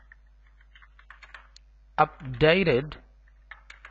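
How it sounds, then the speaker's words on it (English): Light clicking from typing on a computer keyboard, with sparse key taps before and after a brief spoken phrase in the middle. "here I'm just typing"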